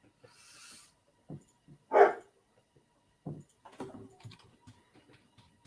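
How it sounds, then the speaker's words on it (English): Household dogs give a few short, faint barks and whimpers in a quiet room, mixed with light clicking and tapping noises, sparse and intermittent. "Your dogs are making noise, Johnny."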